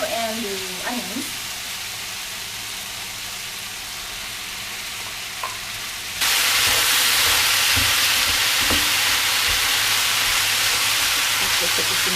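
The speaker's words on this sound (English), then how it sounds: "It's time to add the jalapeno and the onions." Jalapeno and onions hit a hot pan and the sizzle jumps abruptly from a quiet hiss to a loud, steady frying roar that continues to the end.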